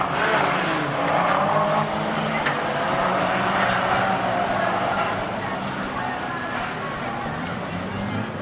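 Fender Bender race cars roar past at Rockhampton Speedway, a steady loud engine drone with brief tire squeal, continuous across the whole stretch under a busy track atmosphere.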